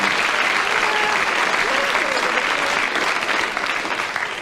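Sustained, dense studio audience applause at a British radio panel comedy show, loud and even throughout before starting to fade at the very end.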